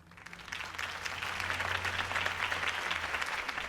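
Crowd applause after a campaign speech in a Batman game, a dense, steady clapping that swells in quickly and continues at full strength over a low hum.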